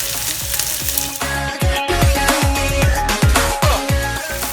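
Garlic, onions and green chili peppers frying in a pan while being stirred, a loud continuous sizzle overlaid with a rhythmic series of metallic scraping strokes in a steady beat, close up, no talking.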